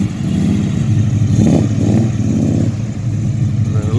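A 1971 Ford XY Falcon GT replica's engine revs hard in a steady, loud roar with a few rising surges, close by and with no talking.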